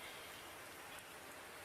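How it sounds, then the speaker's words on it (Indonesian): Rain falls steadily in a soft, continuous wash of hiss and patter, fairly quiet and uniform with no voices. "Kan bisa tunggu hujan berhenti, toh."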